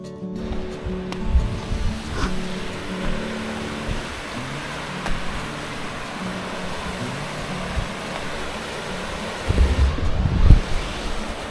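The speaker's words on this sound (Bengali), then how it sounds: "এই যে এইখান থেকে এই জলটা যাচ্ছে গিয়ে ওইখানে উশ্রী ঝর্ণাটা নিচে নেমে গেছে" Water rushes at the source of Usri waterfall in Giridih, Jharkhand, a steady outdoor roar with wind buffeting the microphone and a few louder gusts near the end.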